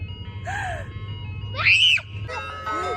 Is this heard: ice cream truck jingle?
yes